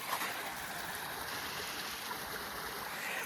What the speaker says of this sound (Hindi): यहाँ पर पहाड़ों से पानी ऐसे गिरते रहता है